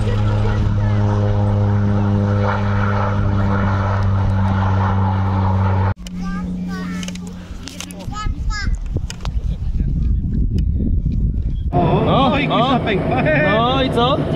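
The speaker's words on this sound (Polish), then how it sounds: "a tam leci właśnie samolot," A propeller airplane drones steadily as it takes off at an aeroclub airfield in Elbląg, then the engine sound shifts and fades as children chatter and play close by.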